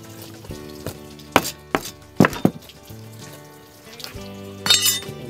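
A knife chops through cleaned walleye fish on a cutting board, a few sharp separate thunks among quieter scraping and handling noises, with no talk.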